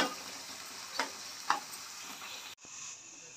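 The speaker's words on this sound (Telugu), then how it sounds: "త్వరగా వేయించుకోవాలి, మూత అవసరం లేదు, సిమ్లో పెట్టి అదే వేగుతూ ఉంటాయి." Bitter gourd pieces frying in a pan on a low flame, a steady soft sizzle with a couple of brief stirring clicks; the hiss drops away abruptly near the end, then resumes more quietly.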